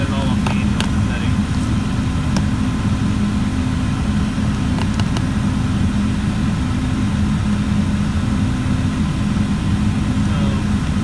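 A Mercedes 300D's air-conditioning blower runs on its manual setting inside the car, a loud, steady, continuous whooshing rush with a low droning hum underneath that holds unchanged throughout, with occasional faint clicks and knocks.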